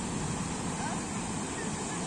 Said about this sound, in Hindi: बहुत तेज लहर आ रही है,